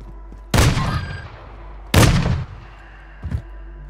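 Gun firing in a video game: two loud, sharp shots about a second and a half apart with ringing decay, then a fainter third report.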